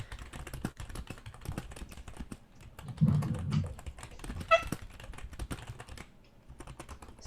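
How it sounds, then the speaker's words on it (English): Someone types quickly on a computer keyboard, a dense run of close, irregular key clicks with a few heavier thumps partway through. "So much typing."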